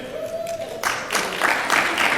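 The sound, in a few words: audience clapping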